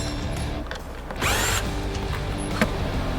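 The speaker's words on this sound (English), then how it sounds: "Now with a 6mm socket, you want to remove all 4 bolts holding the fuel pump to the tank." A 6mm socket on a ratchet or power driver spinning out the bolts that hold a fuel pump to a tank, a loud steady mechanical whir with a louder surge midway and a sharp click near the end.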